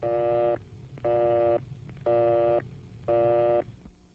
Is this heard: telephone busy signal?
yes